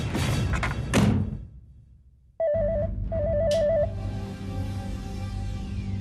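A telephone rings with a warbling electronic tone in two bursts, following some clattering thuds and a quiet pause.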